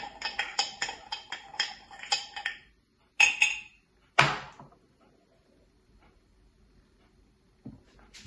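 Salt being stirred into a drink, a quick run of rattling clinks and taps against the container, then a few sharper knocks and scrapes separated by silence, close and crisp.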